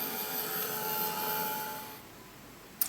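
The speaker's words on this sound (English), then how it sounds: "I'll just give it a quick blast, get that gesso nice and dry" A heat tool blasts hot air to dry gesso on a page, a steady loud whooshing hiss that runs for about two seconds and then cuts off, leaving a quieter room, with a brief click at the end.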